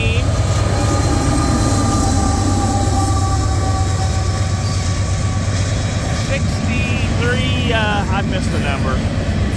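A Union Pacific freight train with a distributed power unit rolls past loud and steady, a continuous rumble of wheels and railcars filling the whole stretch, with a brief horn-like tone late on.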